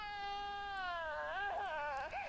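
A child's high, wavering wail in an analysed cockpit or radio recording, sliding down in pitch and warbling against a steady noisy hiss, loud and continuous with no other voices.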